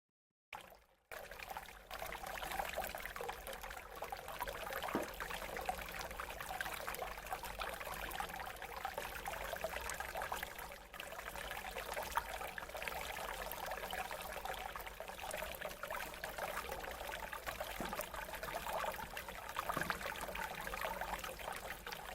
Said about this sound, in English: the brew bubbling beautifully as I filled the glass